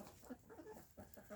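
Chickens resting in the dirt cluck softly nearby, a few low, quiet, broken clucks in quick succession with no talking.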